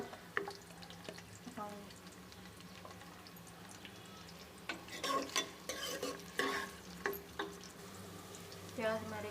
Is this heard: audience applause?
no